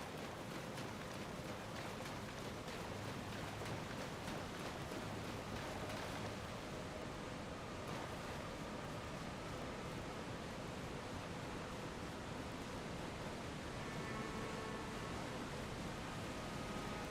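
A waterfall in the Nokron area of the video game Elden Ring, heard as a constant, fairly faint broadband rush of falling water that stays steady throughout.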